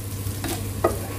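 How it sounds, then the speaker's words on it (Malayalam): Grated coconut sautés in hot oil for Kerala erissery, giving a soft continuous sizzle with brief stirring scrapes against the pan. "ബാക്കി മുഴുവൻ തേങ്ങയും ഈ എണ്ണയിലേക്ക് ചേർത്ത് കൊടുക്കുക. ഒരു ഗോൾഡൻ കളർ ആകുന്ന വരെ ഇത് നന്നായിട്ട് വഴറ്റി കൊടുക്കണം."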